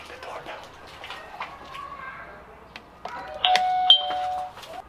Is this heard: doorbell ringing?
yes